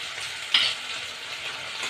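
A spice mixture with yogurt, salt and turmeric fries in hot oil in a pan, giving a steady close sizzle with a brief louder crackle burst as it is stirred.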